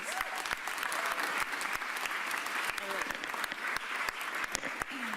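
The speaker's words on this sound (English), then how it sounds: "give them a round of applause, please." An audience at a Philadelphia press event announcing a new arena applauds, with steady clapping punctuated by a few sharp individual claps and faint voices underneath.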